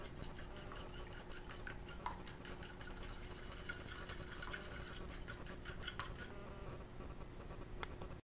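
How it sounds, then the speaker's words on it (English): An egg whisked with a fork while making salsa chicken, heard as a steady run of quick, light ticking taps of metal on a bowl over a constant background hum, fairly faint and with no talking. "Next, I'm going to whisk the egg with a fork."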